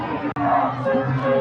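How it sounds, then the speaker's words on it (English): Home crowd at an IHSA varsity high school football game between Lena-Winslow and Chicago Hope Academy, making a sustained, loud roar of noise to spur on the defense, with a commentator's voice running over it. "They've got their crowd making some noise now, trying to spur on this defense."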